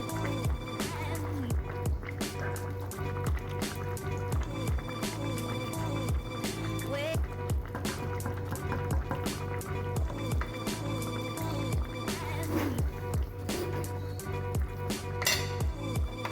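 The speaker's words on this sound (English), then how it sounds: "Then I'm going to use my wooden spoon and just to stir" Oxtail stew with ketchup stirred in a pot with a wooden spoon, giving repeated knocks and scrapes with faint wet squishes at a steady rhythm, close and fairly loud over a constant background hum.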